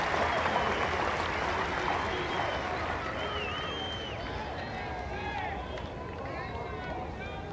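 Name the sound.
cricket crowd applauding a four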